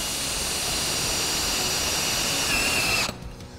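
A power drill drives side entry screws into stair bracketry for a top and bottom rail, a loud, steady whine running close and unbroken for about three seconds before cutting off.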